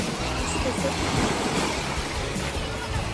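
Cold water washes against rocks along the shore at Scarborough Bluffs, a steady broadband surf hiss with no clear individual splashes.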